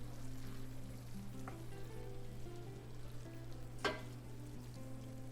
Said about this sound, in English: My tomato red pepper paste mixture is cooked well, so I'm mixing everything again